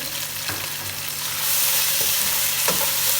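Ginger garlic paste frying in masala for beef tikka biryani gives a steady, close sizzle, with a few soft stirring scrapes in the pan and no talking.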